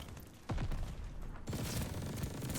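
Hip-fired EX1 energy rifle in Call of Duty: Vanguard, rattling out a continuous stream of crackling laser shots after a sharp first burst, loud and close over game noise.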